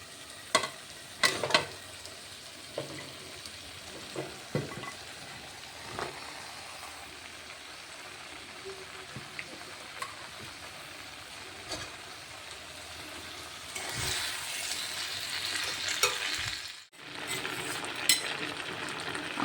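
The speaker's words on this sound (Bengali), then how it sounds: "যে সবজিগুলো আমি কেটে রেখে দিয়েছি, আলু, ফুলকপি, বেগুন, মূলো, পালং শাক, শিম, সেই সবজিগুলো আমি দিয়ে দেবো।" Mixed vegetables, including potato, cauliflower, eggplant, radish, spinach and beans, cooking in a pan with a soft continuous sizzle, scattered clinks and scrapes of stirring, and a louder hiss burst late on.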